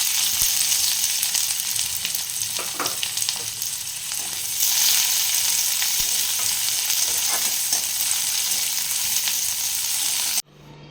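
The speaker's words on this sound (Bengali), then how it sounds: "পেঁয়াজটা একটু ভেজে নেব" Onion frying in a pan for Bengali-style biulir (kalai) dal, a dense continuous sizzle and crackle with occasional stirring scrapes, close and fairly loud, cutting off abruptly at the end with no voices.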